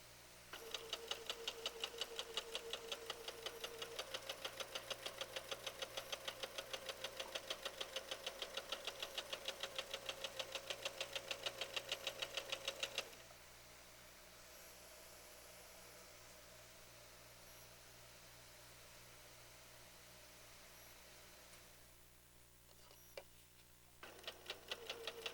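A sewing machine stitching fabric in a fast, even stream of close mechanical ticks, stopping partway through and giving way to quiet hum with a few faint clicks before stitching resumes at the very end.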